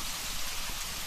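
Steady rain falls in Dubai as a dense, even hiss of drops throughout, with no voices or other sounds, as in a radio drama.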